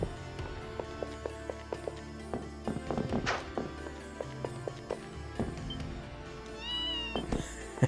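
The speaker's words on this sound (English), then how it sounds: "Nobody cares about you, cat." A cat meows in the video game Ys Seven amid game sounds and background music, with a few short, fairly clear mews rising over the steady score and no voices on top.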